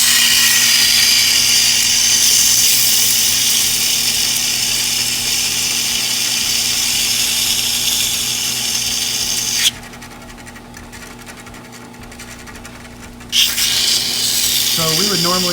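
Treadmill motor converted into a 2x72 belt grinder grinding rough raw titanium, a loud steady whir with hissing abrasion that cuts out partway and then starts up again, alone without talk.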